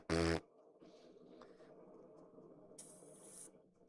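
A voice makes a short, buzzing mouth fart imitation, loud and close, followed by quiet rustling and a brief hiss.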